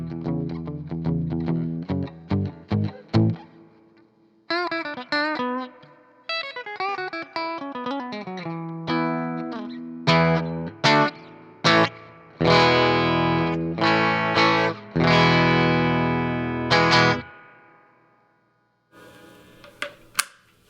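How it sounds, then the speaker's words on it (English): Two electric guitars play through a reverb pedal into a Magnatone amp set at moderate volume, strummed chords and picked notes ringing with a slightly gritty tone, stopping and restarting in bursts before a brief pause and a quieter final strum. "so that was both guitars, no pedals other than the reverb pedal, into the Magnatone with the volume at noon"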